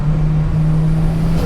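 A 600HP Nissan S15 with a VVL SR22 engine pulls hard in fourth gear, a loud steady engine drone heard from inside the car without speech.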